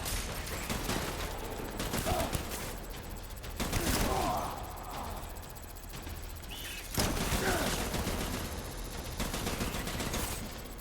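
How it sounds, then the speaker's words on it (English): Gunfire in the video game Death Stranding, several shotgun-like blasts scattered through ongoing game noise and music, with a voice briefly audible. "I'll change to the shotgun"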